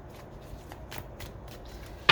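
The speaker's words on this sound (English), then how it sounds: "You know we had to get a good shuffle, right?" Tarot cards shuffled by hand in a few quick riffling bursts, close and crisp, ending in a sharp louder snap as the deck comes together.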